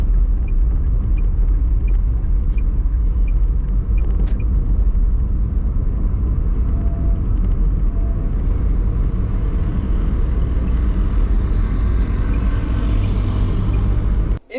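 A car drives along the Nairobi expressway, with a steady, loud low road rumble and engine drone from inside the vehicle lasting throughout, no talking, before a brief dropout at the very end.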